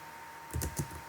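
A few quick clicks of a computer keyboard, faint and close, in a brief burst.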